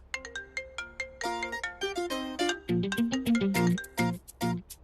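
A bright electronic ringtone plays a quick, repeating melody of synthetic tones, loud and close, with no voices over it.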